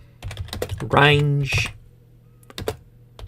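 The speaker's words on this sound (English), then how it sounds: "and then we start typing." Rapid clicks of a computer keyboard being typed on, with bursts of keystrokes around a man's spoken words, up close and crisp.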